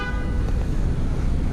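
A Honda Gold Wing motorcycle's horn sounds in a steady, car-like honk over a constant rumble of nearby street traffic in NYC.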